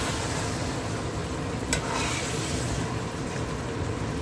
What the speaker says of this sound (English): till I start hearing the sizzling from the pot